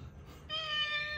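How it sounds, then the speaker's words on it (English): A cat with one blue and one green eye gives a single drawn-out meow from close by, rising clearly out of quiet indoor room tone. "Snow, that's my cat."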